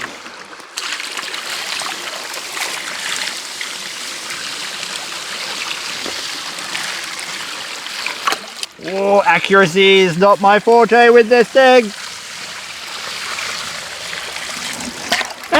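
Water poured into a homemade DIY gold mining sluice, a steady trickling and splashing flow throughout, with someone talking over the middle part.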